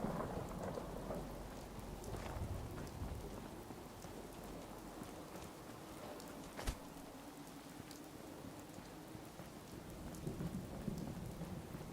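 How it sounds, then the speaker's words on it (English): Steady rain hisses in the Fallout 4 wasteland near Drumlin Diner, with low rumbling thunder throughout and one sharp crack midway, a continuous enveloping storm without any talking. "It's 2 p.m. right now, and it's raining"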